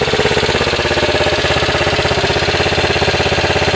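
A Honda XR80 dirt bike running a transplanted eBay engine sits at idle, its loud, steady, rapid pulsing thrum continuing evenly and close without a break.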